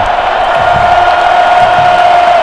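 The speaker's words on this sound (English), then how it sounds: "man, has the crowd ramped up the volume" Stadium crowd at an AEFL tournament football championship game, a loud sustained roar of cheering and whooping that fills the whole stretch without a break, with a faint steady whistle-like tone running through it.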